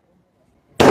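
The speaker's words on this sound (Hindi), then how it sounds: "आप देख सकते हैं कि पटाखे किस तरह से बजा कर वो है जश्न बनाया जा रहा है" A firecracker goes off at a BJP victory celebration in Hisar, a single loud, sharp burst that breaks abruptly out of near silence.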